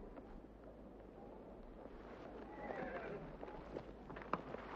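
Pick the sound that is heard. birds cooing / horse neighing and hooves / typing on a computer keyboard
horse neighing and hooves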